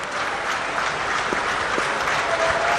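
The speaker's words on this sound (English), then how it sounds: "the claps, the hand claps going on, because they feel, they know their team is on top here" England supporters clapping at a cricket Test match in Durban, dense continuous applause from a large crowd, steady and fairly close with no talk over it.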